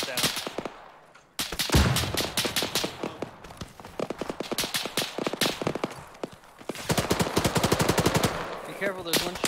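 Dense, rapid machine-gun bursts and single gunshots in the Arma 3 military shooter, loud and close, firing almost continuously with brief pauses between volleys.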